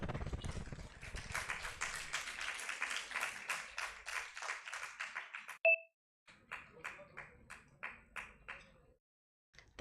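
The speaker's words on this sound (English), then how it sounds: "Please give a big round of applause." Audience applause at a gut-health event during a facilitation ceremony, heard as steady rhythmic clapping that breaks for a short electronic beep and then resumes in regular bursts.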